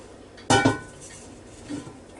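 A Ninja Foodi Deluxe cooking pot is lifted out of the cooker, giving a loud metallic clink and clatter, followed by a fainter knock of pot against housing.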